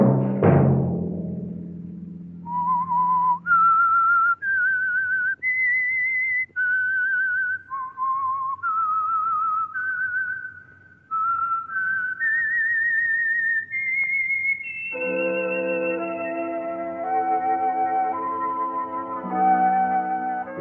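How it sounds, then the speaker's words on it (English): The whistled theme of The Whistler, an old-time radio suspense program, rising and falling as a solo melody for about fifteen seconds before a full orchestral passage joins underneath. "Let that whistle be your signal for the Signal Oil program, The Whistler."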